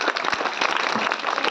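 A group claps briskly and steadily at a fire department's home fire-safety demonstration, close and fairly loud, with no pauses for the whole short burst.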